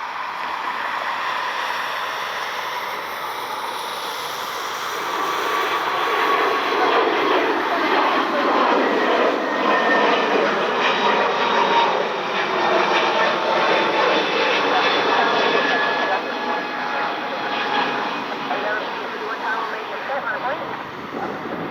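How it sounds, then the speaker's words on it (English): An Airbus A321neo jet airliner roars at an airport on a rainy night, its engine noise swelling loud and broad before slowly easing, with rain hiss throughout. "it's 4637 A321 Neo heading to Denver"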